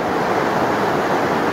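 Muddy flash flood water carrying mud and branches rushes down the Arroyo de las Avispas creek after heavy rain, making a loud, constant broadband roar with no pauses.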